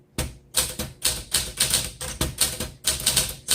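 A 1949 Smith Corona Sterling manual typewriter is typed on in close, steady bursts of crisp key strikes, each burst separated by brief pauses, with no talking.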